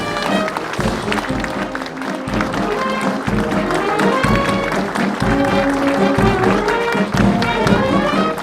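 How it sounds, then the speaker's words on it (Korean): An audience at a military ceremony for the founding of the Ground Operations Command applauds the commander's entrance, a continuous loud clapping crowd mixed with marching or band sounds and voices. "큰 박수로 맞이해 주시기 바랍니다"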